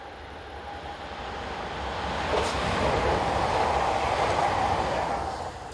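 An AM08 electric multiple unit, number 043, passes outdoors, a broad steady rush of train noise swelling over a few seconds and holding loud before easing slightly at the end, with no talk.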